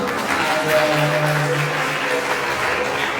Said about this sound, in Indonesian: Tepuk dulu buat kita semua